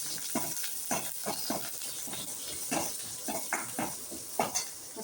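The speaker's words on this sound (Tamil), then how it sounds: "லைட்டாக எண்ணெய் ஊற்றிட்டு அதுக்கப்புறம் இந்த பச்சை மிளகாய் போட்டு வதக்கிக்கலாம்." Green chillies sautéing in oil, with a soft background sizzle broken by a rhythmic series of scraping, clattering stirs against the pan, close by and without talk.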